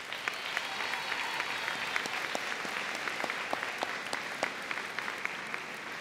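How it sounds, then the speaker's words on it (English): A graduating-class audience at a high school senior convocation applauds for the class advisors, a steady dense wash of many hands clapping in a large hall, with a few sharper individual claps standing out. "an additional round of applause for two people who have really dedicated themselves over these many years to the class advisors"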